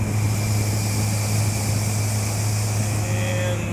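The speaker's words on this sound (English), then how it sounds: "I'll let you take one more look at the motor running" Outboard motor on a Crest III 25-foot XRS pontoon boat running steadily on a lake, a continuous loud droning hum with constant pitch throughout.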